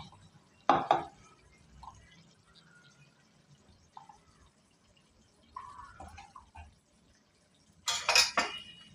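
A spoon scrapes and clinks against a dish while Andhra-style chicken fry masala is mixed, a few separate metallic clatters, some loud and some faint, with quiet gaps between them.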